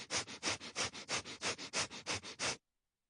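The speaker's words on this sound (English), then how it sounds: "begin to quickly inhale and exhale through both nostrils at the same time" Breath of fire yoga breathing: quick forceful inhales and exhales through both nostrils, about twelve rapid, evenly paced sniffing pulses, close and fairly quiet, then silence.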